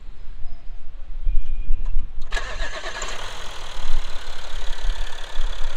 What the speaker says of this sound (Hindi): तो ये हो चुकी है गाड़ी स्टार्ट और यहाँ पे आप इंजन नॉइज़ वगैरह सुन सकते हैं।